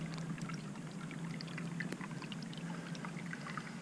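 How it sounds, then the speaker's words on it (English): Water trickles slowly over riprap at the outlet of a newly built road culvert during a flash flood watch at night, a steady soft pour with faint splashing, heard alone and fairly quiet throughout. "The water is flowing very nice and slow as opposed to before."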